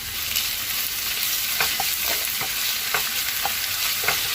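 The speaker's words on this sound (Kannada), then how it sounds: "ಈಗ ನೋಡಿ ನಾನು ಶುಂಠಿ ಬೆಳ್ಳುಳ್ಳಿ ಪೇಸ್ಟ್ ಹಾಕ್ತಾಯಿದ್ದೀನಿ" Ginger garlic paste fries with onions in a pan, a steady close hiss and sizzle with intermittent scraping stirs of a spoon, no voices.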